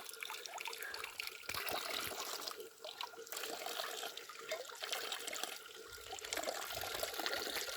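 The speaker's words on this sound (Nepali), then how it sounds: "यो धारा कस्तो अमेजिङ छ यार। ढुङ्गाको कोपेर बनाएको छ नि त।" Water pouring from a carved stone water spout outdoors, a steady splashing and trickling stream heard close, with small shifts in intensity and no speech.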